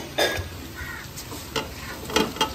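Chicken pieces go into a pan of browned spices, giving a soft sizzle with a few sharp clinks and scrapes of utensils against the pan, close and moderately quiet.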